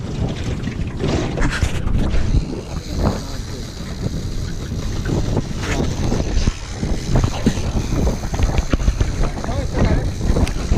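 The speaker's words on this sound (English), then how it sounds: "Dang, that's how windy this place is" Strong wind at a harbor during a fishing trip buffets the microphone in a steady roar with gusty surges, while people talk over it throughout.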